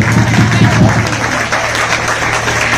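A seminar audience in Rohtak breaks into loud, dense clapping, a continuous wash of many hands close by that lasts the whole short clip.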